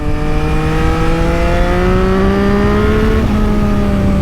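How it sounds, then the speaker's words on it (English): 2022 Yamaha XSR900 motorcycle accelerating hard out of a corner, the engine note rising steadily in pitch with a loud, continuous, close-up roar and no talking. "You want to roll on the throttle out of a corner and get that drive, man."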